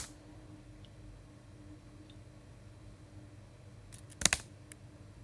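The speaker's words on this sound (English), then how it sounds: "we just type npx fitbit" Brief burst of computer keyboard typing as a command is entered in a quiet room, a quick cluster of faint clicks near the end after near silence.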